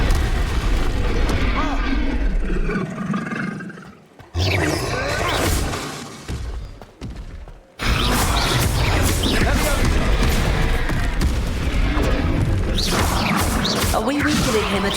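Repeated Confringo blasting-spell explosions in Hogwarts Legacy, loud booming blasts and crashing debris during a boss fight, with a short lull before the barrage resumes and a voice calling out spells over it.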